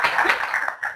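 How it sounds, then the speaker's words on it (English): Audience applause in a lecture hall at a Penn State talk, a dense continuous patter of many hands clapping at moderate loudness, with no talk over it. "if you could give me a clap"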